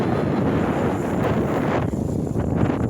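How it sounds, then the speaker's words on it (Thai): Morning wind blows steadily across the microphone beside golden rice fields and fruit orchards, a continuous rough rumble with no clear speech. "มีลมนะคะ"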